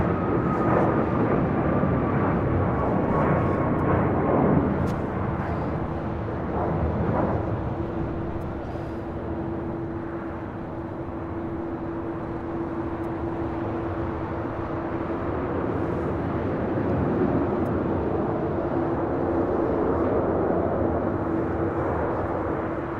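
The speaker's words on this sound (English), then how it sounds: "We do have United Airlines flight 3932. It's a 787-9 Dreamliner heading to San Juan, heading to the 25s." A United Airlines 787-9 Dreamliner departs LAX as a loud, steady jet roar, broad and sustained with a gradual swell and fade in its tone.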